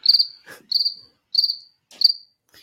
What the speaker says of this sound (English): That's the sound of crickets.